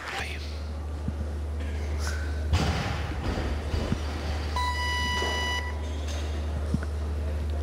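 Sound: referee's signal beep at a weightlifting competition

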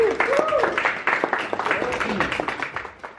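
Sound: audience applause for product line manager

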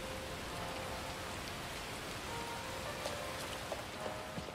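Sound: rain in video game Neverness To Everness

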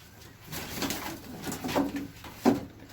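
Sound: pigeons cooing in the loft

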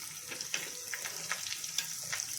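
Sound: cumin and chilies crackling in hot oil

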